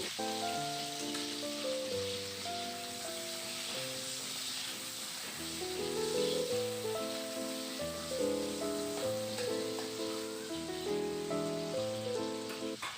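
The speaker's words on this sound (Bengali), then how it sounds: "আলুটাকে আমি দিয়ে দিলাম এবার ভালো করে নাড়াচাড়া করে আমি লাল করে ভেজে নেব" Potatoes fry in hot oil with a constant hissing sizzle, heard under steady background music throughout.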